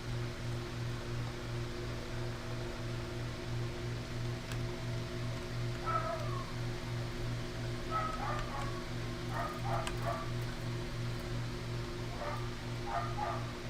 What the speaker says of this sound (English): Neighbor dogs?